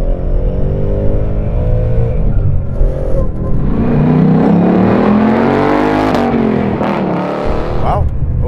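A supercharged 775 hp Ford Mustang Bullitt accelerates hard from inside the cabin, the engine note rising steadily through the revs with a supercharger whine, loud and close, then easing off near the end.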